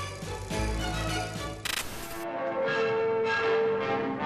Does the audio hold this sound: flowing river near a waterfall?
no